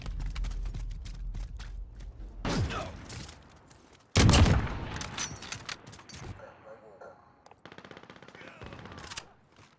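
Video game gunfire: a sharp, loud shot around the middle followed by scattered rapid cracks and a later stuttering burst, with game sounds between and a person talking over parts.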